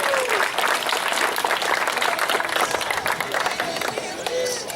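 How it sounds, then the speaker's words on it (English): An audience at a county fair queen pageant applauds the junior queen contestants, a sustained, dense wash of clapping from a large crowd with some cheering and voices mixed in. "How about another round of applause for our Junior Fair Queen competitors?"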